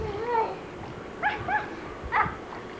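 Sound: dog barking and whimpering

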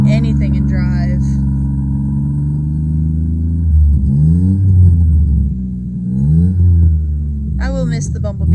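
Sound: struggling engine of 1989 Toyota Camry wagon

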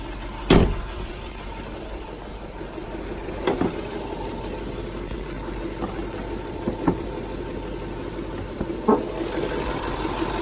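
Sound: 2012 Range Rover HSE V8 engine idling

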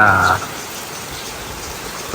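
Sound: rain

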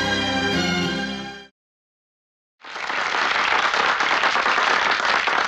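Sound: crowd clapping

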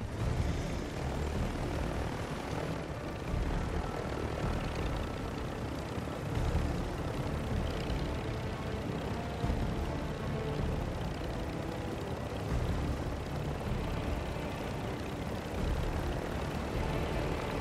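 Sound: helicopter flying in video game Call of Duty DMZ

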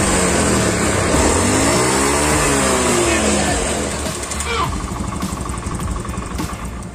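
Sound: Honda Beat FI scooter engine running with unstable idle

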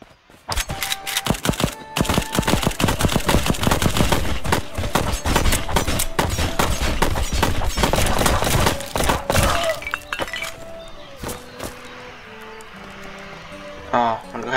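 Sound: gunfire in a video game

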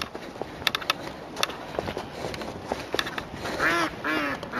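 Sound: ducks quacking

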